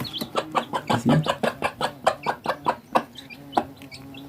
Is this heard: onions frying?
no